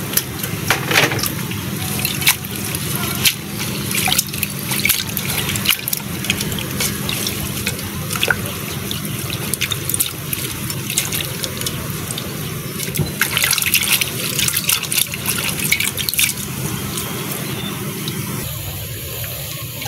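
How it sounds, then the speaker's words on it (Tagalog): Sweet potato leaves are washed under a running kitchen tap, a steady close splash of water with rustling and handling of the leaves for about twenty seconds. "Hugasan ko po muna pala tong talbos ng kamote natin mga ka-adventure."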